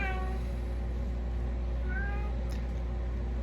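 A cat meows a few times, quiet and fairly close, over a steady low hum with no talking.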